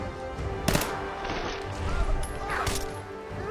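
Gunfire in Fallout 4 cracks out in a few sharp, scattered shots over a low, busy game soundscape, moderately loud and close, with no speech.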